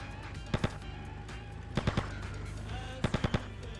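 Gunfire in the PS2 game GTA Vice City Stories: short bursts of two to four rapid shots spaced apart, over a steady low engine-like game background with no talk.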